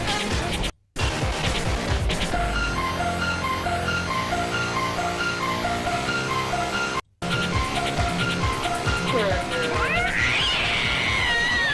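A cat meows repeatedly in a steady rhythm, loud and close, over music, with a brief crash and a voice near the end.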